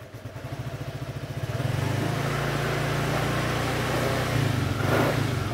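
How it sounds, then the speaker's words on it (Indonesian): A Suzuki Address scooter running on a four-cell LiFePO4 battery cranks with a quick pulsing starter whir, catches and settles into a steady, close idle that rises briefly near the end. "ini masih 13 kita coba starter ya"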